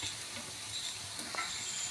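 Appe sizzle and fry in a pan while being stirred, a steady close hiss with faint scraping and no talking.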